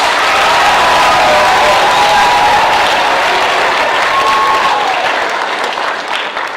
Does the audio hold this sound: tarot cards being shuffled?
no